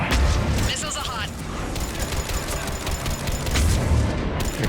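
Missile salvos firing and exploding in the Mass Effect 3 video game, a run of heavy booms and rapid blasts over a loud, continuous rumble of combat.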